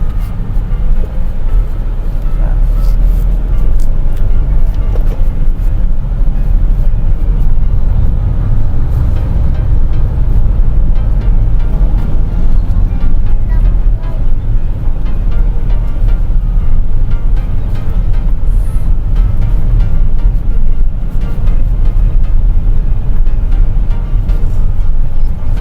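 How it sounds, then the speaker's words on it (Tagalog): Traffic builds up on the road to Batangas as cars pass, giving a steady, loud low rumble of engines and tyres heard from inside or beside a vehicle, with no voices. "Kaya medyo nagbe-build up na yung traffic."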